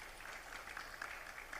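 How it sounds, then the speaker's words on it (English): Brief, faint round of audience applause at an international publishers' conference, a steady patter of many hands heard from a distance. "Round of applause for Jessica."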